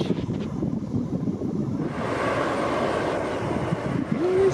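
An Embraer E-Jet passenger jet at Atlanta airport produces a steady low engine rumble with wind buffeting, rising and thickening midway as the jet noise swells, heard from nearby on an apron or terminal area.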